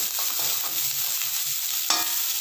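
Onions sautéing in a pan for raw banana podimas, a continuous close sizzle with scraping stirs and a brief louder crackle, no talking.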